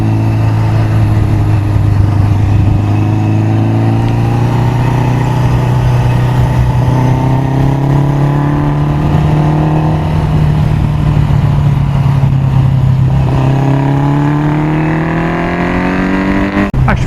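A Honda 750 Four motorcycle engine pulls steadily through a long acceleration, its loud, close tone rising smoothly, dipping at a gear change and then climbing again, with no talk over it.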